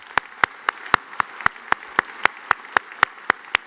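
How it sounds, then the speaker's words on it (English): Evenly spaced, sharp claps ring out at a steady quick beat, a thin round of applause at a West Senior 2018 graduation ceremony, with no talking over it. "We have one more round of applause for Jordan's speech."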